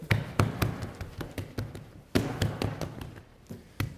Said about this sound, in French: on a donc une pâte qui est froide, qui a bien fermenté. On va la dégazer.